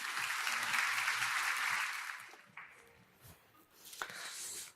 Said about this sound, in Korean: 힘찬 박수로 환영해 주시면 감사하겠습니다.